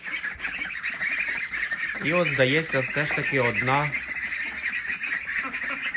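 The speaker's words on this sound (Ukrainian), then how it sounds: "Отакі вже підросли качки мої" Young ducks on a small household farm give a cluster of loud, nasal quacks in the middle, while someone talks close by before and after.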